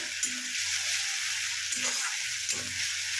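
Egg korma base frying and being stirred in a pan with rice and a splash of water, a steady bright sizzle with a few scraping stirs of a spoon against the pan.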